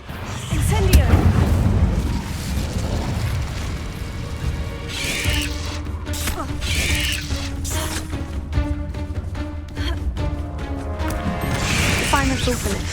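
An Incendio fire spell blasts in Hogwarts Legacy, a booming burst followed by layered magical whooshes and tones over game music, with a voice calling out spells.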